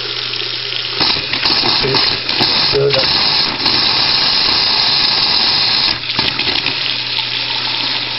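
Hot water sputtering and rushing from the furthest faucet after an electric water heater element replacement, loud and continuous with air bursting through the flow, while someone speaks briefly.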